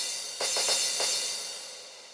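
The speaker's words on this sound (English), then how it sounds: "I forgot to talk about this element, it's important, like the happy hardcore crash." Happy hardcore style crash cymbal in a dancefloor drum and bass track, a bright hissing wash with a few rhythmic hits on top that slowly decays, heard alone at moderate level.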